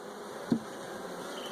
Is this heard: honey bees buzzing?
yes